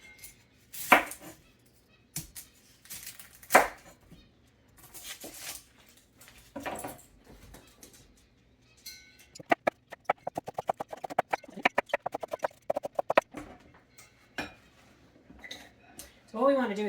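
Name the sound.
chopping an onion with a knife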